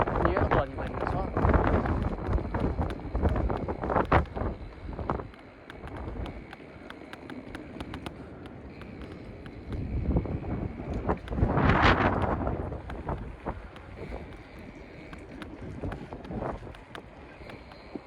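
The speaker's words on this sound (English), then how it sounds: "The wind just fucking blew my front tyre side to side." Strong gusting wind roars across the microphone while a motorcycle is ridden at night in the rain, a broadband rumble that swells and fades in waves and peaks in a loud burst midway.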